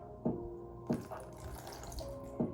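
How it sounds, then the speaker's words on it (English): Water poured onto the side of a waterproofed Jordan 1 sneaker, heard as several short, close splashes and trickles coming in brief bursts. "So I'm gonna pour the water onto this side."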